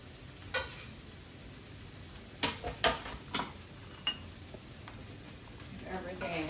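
Garlic sizzling in a pan with chorizo, onions and chipotle peppers for tinga, a soft, steady frying hiss broken by scattered clinks and stirring taps, heard faintly while someone talks.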